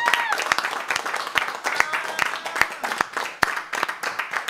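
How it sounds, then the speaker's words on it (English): Scattered applause for butler competition finalists, with individual sharp claps standing out from a thinner crowd and some talk in the background. "So before we begin this, I just want everybody to give them, please, a round of applause."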